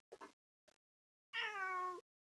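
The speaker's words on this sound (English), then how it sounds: "What are you doing, cat?" A cat meows indoors: two short chirps and a faint brief mew, then one longer, clear drawn-out meow, heard alone with no talking.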